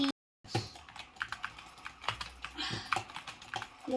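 Keys clacking on a Steelseries Apex Pro TKL mechanical gaming keyboard, a quick irregular run of close, crisp strokes after a brief silent gap at the start.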